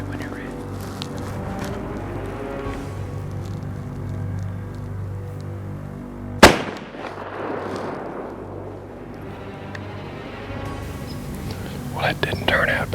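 A muzzleloader rifle is fired at a whitetail buck in a Kentucky cornfield from over 150 yards, a single sharp, loud blast midway through a steady outdoor background, with quiet whispered talk around it.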